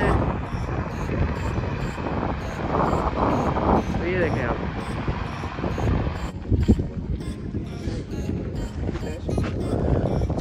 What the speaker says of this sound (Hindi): बहुत तेज़ हवा चल रही है यहाँ पे। आप लोगों को आवाज़ सुनाई दे रही होगी हवा की माइक में।